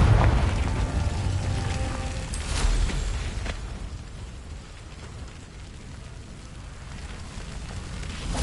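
A Confringo explosion spell in a Hogwarts video game gives a broad, rumbling blast with a crackling, fire-like roar that stays loud at first and then settles into a steady, hissing tail.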